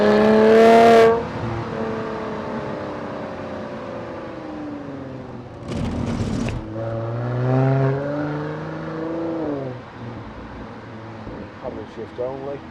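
A 2016 Mercedes-AMG C43 4MATIC with a 3.0-litre engine revs and shifts through paddle-selected gears in manual mode, the engine note rising and dropping between changes, heard from inside the cabin along with someone speaking.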